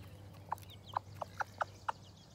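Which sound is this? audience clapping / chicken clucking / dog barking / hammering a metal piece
chicken clucking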